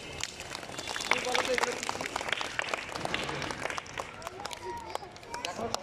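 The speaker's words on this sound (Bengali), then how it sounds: "ওর জন্য জোরে একটা তালি হবে।" Children in a classroom clap together in a loud, scattered burst of applause that carries on throughout, with some voices underneath.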